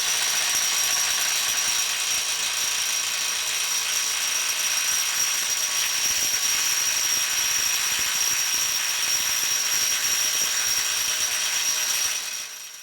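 A Bosch GDS 18V-450 HC cordless impact wrench straining to loosen a tight nut, a steady rapid hammering drone held for about twelve seconds before it stops.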